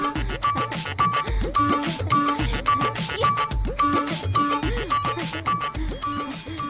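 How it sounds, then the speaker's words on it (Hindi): A loud, bouncy melodic ringtone loops with a steady beat and bright repeating chimes, playing alone without voices. "किसका फोन है?"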